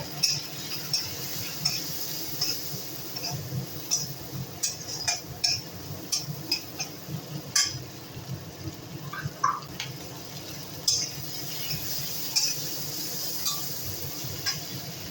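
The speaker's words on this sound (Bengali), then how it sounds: "দিয়ে দেব অল্প করে হলুদ। একটু নেড়ে চেড়ে নেব।" Turmeric stirred into a cooking pan, with a spoon or spatula clinking and scraping against the metal in an irregular rhythm over a soft frying hiss.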